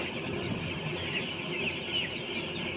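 Chickens cluck and murmur softly in a group after heavy rain in rural Donomulyo, South Malang, a continuous low chatter of farm fowl at moderate distance with no talking.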